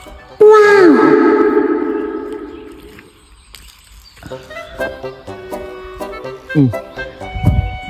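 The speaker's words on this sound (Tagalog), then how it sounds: "Galing ng ibon na yun ah." A bird calling on Radoboj mountain in Croatia, a loud, clear, echoing cry with falling tones at first, followed by quieter, scattered chirps and calls over outdoor ambience.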